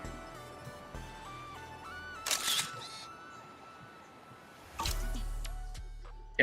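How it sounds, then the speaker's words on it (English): A phone camera shutter and flash in the Zenless Zone Zero video game give a short bright burst and then a second sharp click with a low rumble, set against a soft electronic game ambience with no talk. "As you hit the shutter, the phone flash bursts"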